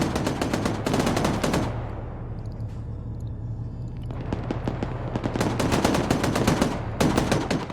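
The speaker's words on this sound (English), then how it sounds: "So you're hearing that 50 cal firing and hitting these dudes" A .50 cal heavy machine gun in the Arma 3 video game fires in long rapid bursts, loud and close, with a short pause midway before sustained firing resumes and continues to the end.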